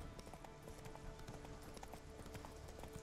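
Steady clip-clop of horse hooves while riding cross-country in the video game The Witcher 3: Wild Hunt, a continuous galloping rhythm over an even ambient bed, with no talk.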